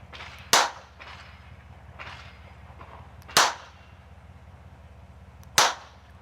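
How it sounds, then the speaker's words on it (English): A gunSHOT BOX simulated-gunshot device fires sharp, loud cracks: three separate bangs spaced a couple of seconds apart, each decaying quickly over a faint background hum. "I'm going to give it a single shot."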